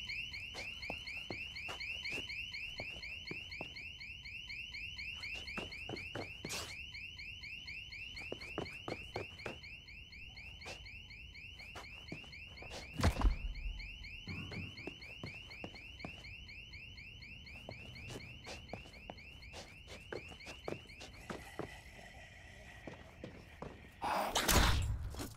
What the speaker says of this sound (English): Oh, I didn't mean to set the alarms off.